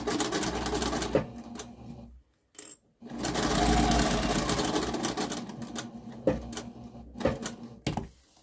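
A sewing machine stitches the lining seam beside a zipper in short runs: a rapid rattling burst, a brief pause, a longer steady run, then several quick stop-start bursts close up, with no voices.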